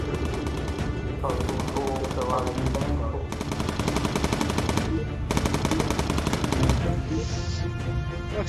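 Machine gun fire in the video game Bomber Crew sounds in long sustained bursts with brief gaps between them, loud and dense throughout.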